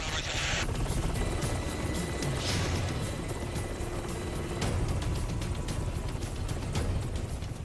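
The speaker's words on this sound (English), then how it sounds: "The door gunners watch their backs, while the lead helicopter scans for threats." Military combat rescue helicopter flying close by, its rotor and engine forming a constant loud, dense roar throughout with a rapid chopping texture.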